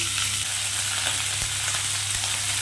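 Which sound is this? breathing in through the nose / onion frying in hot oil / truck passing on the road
onion frying in hot oil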